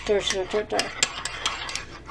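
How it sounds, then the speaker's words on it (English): A spoon stirs pudding in a small dish, quick scraping and clinking strokes in an uneven rhythm, close and moderately loud. "once it's out of the microwave, that's when you stir."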